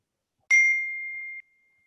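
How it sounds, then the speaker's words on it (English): A single electronic ding rings out once, sharp at the start and then sustaining a clear tone for about a second before cutting off, with silence around it. "my computer keeps beeping"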